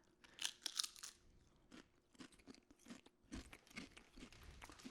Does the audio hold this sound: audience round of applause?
no